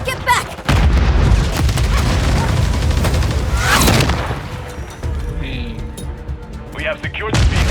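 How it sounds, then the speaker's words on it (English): A Call of Duty MW3 multiplayer match bursts with a heavy grenade blast amid rattling gunfire, loud booms and crashes stacking up over several seconds. Shouted voice lines and chatter come through over the combat. "Grenade! Get back!"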